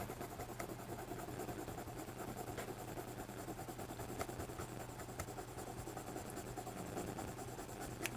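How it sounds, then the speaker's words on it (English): A pencil colors a drawing of a green pepper on paper in small circles, a faint, continuous soft scratching at a quiet, even level, with no talking. "I color in with circles like this. And when it's a big area, I do big circles like this."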